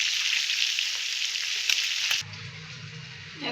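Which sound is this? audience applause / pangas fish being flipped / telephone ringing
pangas fish being flipped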